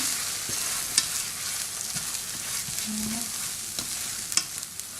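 Beaten eggs are stirred into fried rice in a hot pan, giving a constant hissing sizzle with occasional soft taps and scrapes of the utensil, close up and with no talking.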